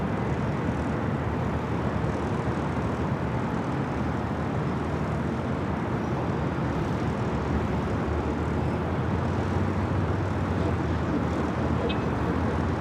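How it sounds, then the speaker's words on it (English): Lufthansa Airbus A380 taking off from LAX bound for Munich, a continuous broad engine roar holding steady and loud throughout, with no pauses. "453 Super taking off to Munich on the A380"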